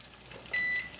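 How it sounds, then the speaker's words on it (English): A kitchen timer gives a short, sharp electronic beep as it is set for 3 minutes while chicken breasts cook, a single clear tone over a quiet room. "I'm just gonna set a timer for 3 minutes"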